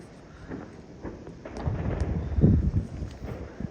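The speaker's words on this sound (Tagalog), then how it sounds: "Siyempre, nandun talaga yung fireworks." New Year fireworks boom in the distance as a series of low, rumbling thuds that swell toward the middle, mixed with wind buffeting the microphone.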